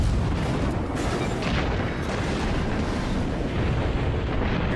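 Heavy booming of St. Louis class cruiser broadsides exchanging fire in World of Warships, a continuous loud rumble of overlapping blasts and explosions with no speech.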